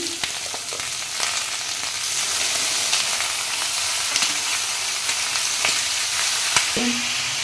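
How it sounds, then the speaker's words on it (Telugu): Green chillies, curry leaves and boiled cabbage fry in a tempering of seeds, making a steady close sizzle with occasional scrapes and light knocks of a spoon against the pan. "తాలింపు గింజలు ఫ్రై అయ్యాక పచ్చిమిర్చి వేసుకుందాం. తర్వాత కరివేపాకు వేసుకుందాం. ఇది ఫ్రై అయ్యాక క్యాబేజ్ వేసుకుందాం."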